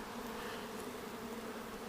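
Honeybees buzz in a dense, continuous, faint drone inside a hive where young worker bees have newly hatched.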